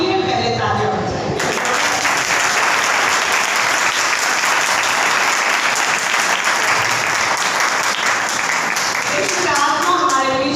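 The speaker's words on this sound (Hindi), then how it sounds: "अब प्रभु के धन्यवाद के लिए पहले तालियां बजाएंगे।" A church congregation breaks into sustained, loud applause that fills the space, many hands clapping steadily from start to finish after a brief lead-in.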